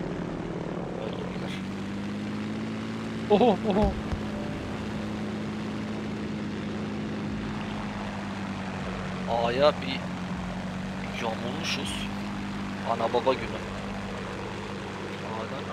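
A propeller aircraft engine drones steadily in the Battlefield V video game, with a constant mid-low hum throughout. Brief bursts of game sounds break in at intervals, and a player talks over it.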